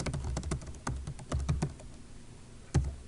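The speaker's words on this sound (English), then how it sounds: "So I'm going to type walk to Europe." Someone types on a computer keyboard, close-up, a short irregular burst of key clicks, a brief pause, then a single final keystroke.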